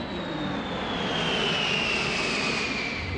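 A C-141 military transport aircraft's jet engines roar steadily with a high whining tone, close and loud, a constant drone with no talk.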